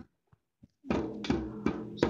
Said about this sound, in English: Bang that drum.